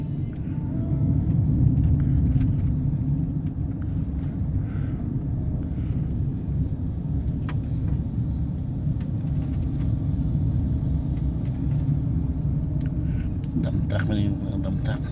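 A heavy dump truck rumbles steadily past on a road near Pagudpod, its deep engine drone sustained throughout, with people talking over the noise.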